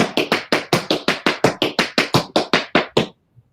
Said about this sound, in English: if you start with the heel, it's more accented and it sounds like this